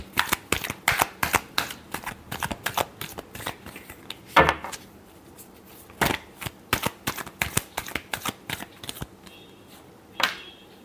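Tarot cards being shuffled by hand close up, a rapid series of crisp riffling and slapping bursts with brief gaps and a few louder taps, no talking.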